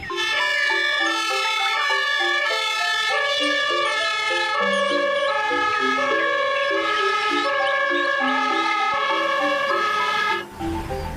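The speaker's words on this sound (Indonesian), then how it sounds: "Di sini ada mobil pemadam kebakaran." A toy fire truck plays a loud electronic siren, with a warbling, melodic tone that runs steadily for about ten seconds before cutting off, and no talking.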